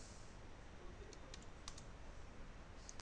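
Keys tapped on a computer keyboard while commands are entered on a Windows Server 2019 machine, a few faint scattered clicks over a hissy background.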